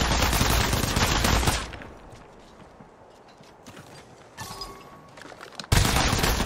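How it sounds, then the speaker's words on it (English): Dense rapid gunfire from the Apex Legends Mobile game sounds loud and continuous at the start, drops to quieter scattered shots and footsteps, then returns in a sudden loud burst at the end. "They're shooting at me!"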